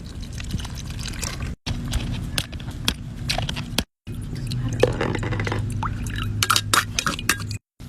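A drink being strained and poured, with wet squishing and liquid noises mixed with light glass clinks, close and continuous, broken by several brief silent gaps.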